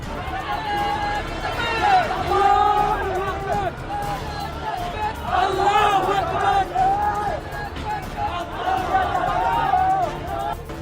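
A large crowd chants Nara-e-Takbeer slogans outside the Prothom Alo newspaper office in Dhaka during unrest, rhythmic massed shouting in repeated waves with general crowd noise beneath.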